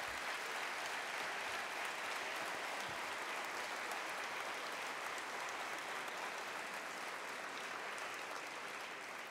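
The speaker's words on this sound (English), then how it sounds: "Give them a round of applause for their service." An awards ceremony audience applauds commissioners with steady, continuous clapping from a sizable crowd, even in level and slightly distant, carrying on without pause.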